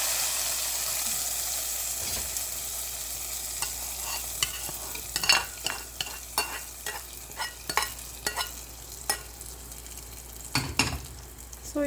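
Yellow pumpkin curry is stirred in a pot after a hot tempering is poured in, with a faint fading sizzle under a run of sharp, repeated scraping and clinking strokes of a spoon, heard up close without speech.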